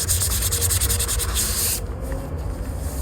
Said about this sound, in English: once we get all this plastic scuffed up and sanded and looking like this